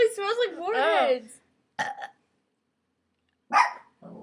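Girls let out a long, croaking burp, followed by a couple of shorter burps separated by silence, close and fairly loud.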